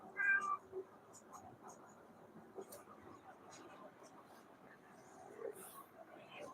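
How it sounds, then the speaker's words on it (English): A pet cat gives a couple of short, close meows near the start, followed by softer scattered vocal sounds and faint indoor background noise. "It's my cute little cat."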